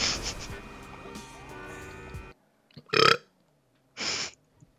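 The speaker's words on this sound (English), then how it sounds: "I wish I could burp like that." A character in the GTA 5 Online video game lets out two loud, drawn-out burps in quick succession after a stretch of engine and game noise that cuts off abruptly.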